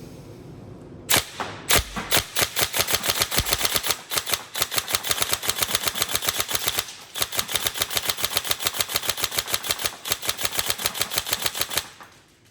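A Tokyo Marui MK18 NGRS airsoft rifle fires single shots in a long, rapid, evenly spaced series of sharp clacks, each one with a crisp mechanical snap, close by and loud, with a couple of short pauses.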